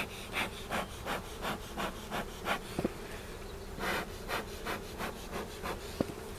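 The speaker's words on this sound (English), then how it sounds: "Not sure how these bees are going to behave." Honeybees swarm around brood box frames during a spring hive inspection, a steady close buzzing hum with rhythmic pulsing bursts and a couple of sharp knocks from the frames.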